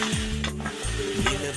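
Onions frying in ghee, a loud close sizzle with a couple of sharp spoon scrapes against the pan over a short burst.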